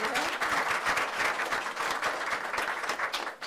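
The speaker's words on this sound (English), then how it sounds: "So we can just give a round of applause for Mariah." Audience applause at a school board of education meeting, steady dense clapping from a roomful of people, fairly close and sustained throughout with no talk over it.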